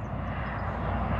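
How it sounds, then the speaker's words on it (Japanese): An airplane at an airport gives off a steady, fairly loud engine rumble and roar that holds evenly for the whole moment, with no voices over it. "あ、来ました飛行機。"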